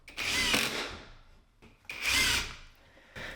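A power drill drives 3.5-inch screws into the back of a ripped-down 18-inch wood board for shop shelves, two loud whirring bursts of about a second each and a brief third start, with no talking.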